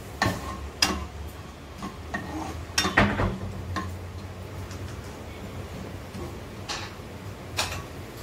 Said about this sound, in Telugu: ఒకసారి కలియబెట్టుకుందాం.